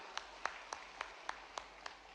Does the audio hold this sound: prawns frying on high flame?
no